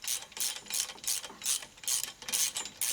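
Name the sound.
ratchet wrench on rear disc brakes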